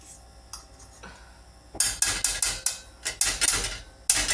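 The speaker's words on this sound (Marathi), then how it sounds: "मी आधी थोड्याशा तुपावरती शेवया भाजून घेते" Vermicelli being roasted in ghee in a pan for sweet kheer, with repeated metallic clinks and scrapes of a spoon against the pan that come in quick, loud bursts after a quieter start.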